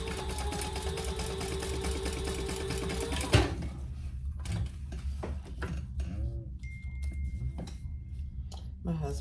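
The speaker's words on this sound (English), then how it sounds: "And then we're going to sew it at an angle." Sewing machine stitching two fabric pieces together at an angle, a fast steady motor hum for a few seconds that then stops, followed by faint handling noise while someone talks.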